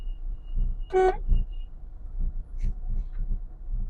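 A car horn gives one short, clear honk at close range over a low idling engine rumble, with faint driving noise after it.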